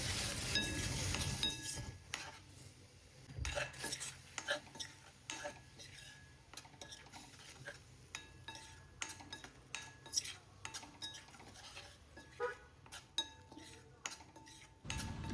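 A spoon scrapes and clinks against a pan while coriander, coconut and green chilli paste is stirred into a Konkani-style taro leaf curry, giving quiet irregular taps with a faint sizzle underneath.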